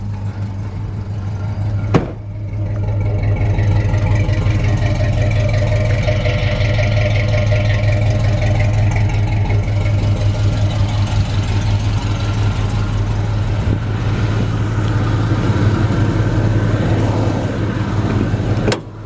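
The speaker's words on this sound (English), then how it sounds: "It does have a little exhaust leak there on the exhaust manifold. You can hear it ticking just a little bit." A 1973 Chevrolet Nova engine with a newer Edelbrock carburetor idles steadily and loudly nearby, a faint tick from an exhaust manifold leak running under the rumble after a sharp click at the start.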